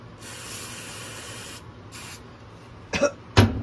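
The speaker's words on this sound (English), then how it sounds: "Just spray everywhere on the shoe." An aerosol can of odor remover sprays onto a shoe in several bursts: one long hiss, a shorter one, then two sharp spurts with handling noise, close and clear.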